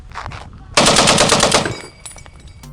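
M1 Garand rifle in the cartoon battle-royale game Super Animal Royale firing a quick burst of rapid shots, loud and close, followed by fainter clicks and mechanical handling sounds.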